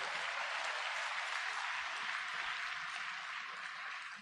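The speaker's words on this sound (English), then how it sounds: "a big round of applause to Dr. Zakir Naik." An audience at a conference applauds a speaker with a steady, even wash of clapping that fills the whole moment and sounds fairly distant, then tapers slightly at the end.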